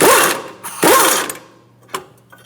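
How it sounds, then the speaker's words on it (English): A ratchet fitted with a 19mm socket loosens the brake bracket bolts on a Fiat's front brakes, giving two loud bursts of rapid clicking followed by a few fainter, scattered ticks. "19mm socket, we're going to take out these 2 bolts holding our bracket."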